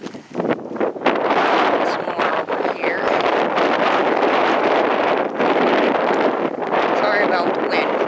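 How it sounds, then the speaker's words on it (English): Strong wind buffets the microphone on an outdoor hike in Oregon, a loud, steady roaring rumble that barely lets up, with faint rustling underneath. "About the wind, guys. I can't do anything about that."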